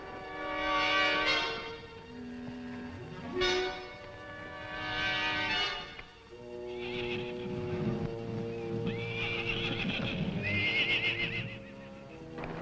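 A white horse whinnies loudly several times on a ranch, shrill cries rising and falling, with hoofbeats and commotion filling the gaps between calls.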